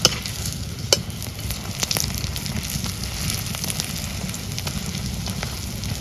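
Crispy fritters made from ash gourd leaves frying in a pan, giving a continuous crackling sizzle with scattered sharp pops and occasional utensil scrapes, close and steady without speech.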